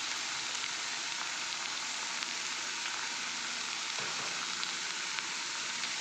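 Curry frying in a small kadai, a steady dense sizzle and crackle close by, with no voices.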